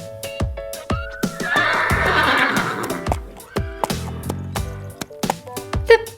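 A Black Forest stallion, a chestnut draft breed with flaxen mane and tail, neighs in long, loud, close whinnies, mixed with hoof clops and clicks at a farm.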